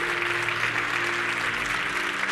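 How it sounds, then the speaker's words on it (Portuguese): A church congregation applauds in worship, a steady, dense wash of clapping that sustains evenly throughout with a faint low tone beneath. "aplaudam ao Senhor"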